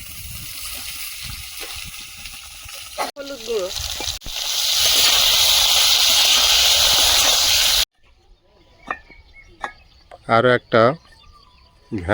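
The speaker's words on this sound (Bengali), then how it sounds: "কাঁচকলা দিয়ে ভেজে নেব" Raw plantain frying in oil in a steel wok, a loud steady hiss and sizzle that swells after a few seconds, then cuts off, followed by quieter kitchen clatter and brief speech.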